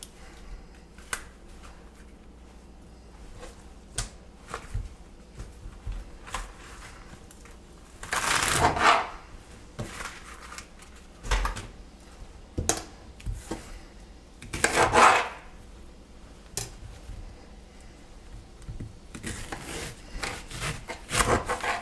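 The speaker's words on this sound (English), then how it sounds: "you got to cut the leeks" A knife cuts leeks on a cutting board, giving close, repeated chops and scraping strokes, spaced unevenly and sometimes in louder bursts, over a quiet background with no speech.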